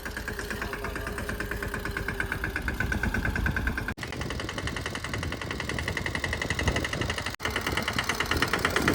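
A tractor engine idles steadily at a farm field in a village, its low, even mechanical rumble running continuously and fairly close, with a couple of brief dropouts and no talking over it.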